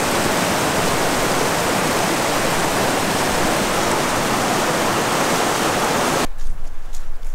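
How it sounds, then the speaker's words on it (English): A swollen mountain river in the Scottish Highlands roars as a torrent after heavy rain, a loud, steady rush of water near at hand that cuts off abruptly near the end, leaving faint wind and scattered sounds. "as the water comes down off the mountain."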